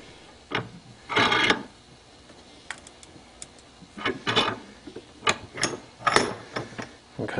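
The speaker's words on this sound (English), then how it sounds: "Just going to slowly press them in there." Scorpion brushless motor bearings from an Align T-Rex 500 helicopter are slowly pressed in with a vise. There are intermittent creaks, scrapes and clicks in short bursts with pauses between them. They are close and moderately loud, and nobody talks.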